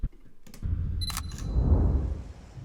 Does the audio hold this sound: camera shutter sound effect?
yes